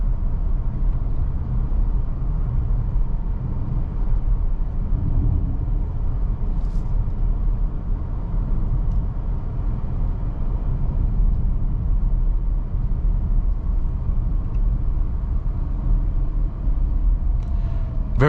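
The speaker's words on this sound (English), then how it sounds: "you really don't know that it's on other than the whirring of the gasoline engine being on" A 2025 Kia Sorento PHEV plug-in hybrid's gasoline engine runs during a drive, a soft, steady low whir and road rumble heard from inside the well-insulated cabin, constant throughout with no talking.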